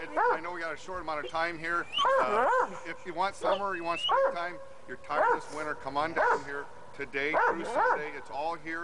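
Dogs bark and yip at a Dock Dogs event during the St. Louis boat show, mixed beneath continuous, loud announcer-style talking.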